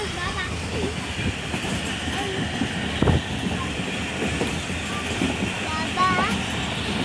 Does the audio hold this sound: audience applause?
no